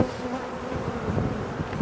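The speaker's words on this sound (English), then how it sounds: "It's this nice bunch of bees in it." A steady, close hum of honey bees buzzing continuously during a hive inspection, with no voices.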